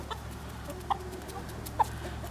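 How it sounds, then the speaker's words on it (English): Roosters in a barn give two short, separate clucks at moderate distance over a steady low hum, with no crowing heard. "those are 2 roosters."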